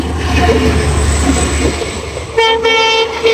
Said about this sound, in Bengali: ফাইনাল ট্রেন এসে পড়ছে